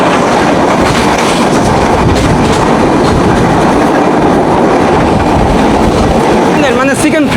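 A Bonolota Express passenger train runs steadily with loud, continuous rumble and rhythmic clickety-clack of wheels on rails, with faint voices underneath throughout.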